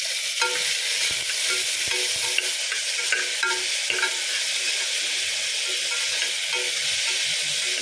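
Onion, green chilli, tomato and garlic sauté in a pan until glassy, with a steady close sizzle and occasional scraping stirs of a spoon throughout, no voices.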